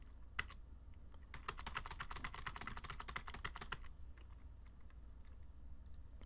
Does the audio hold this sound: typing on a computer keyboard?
yes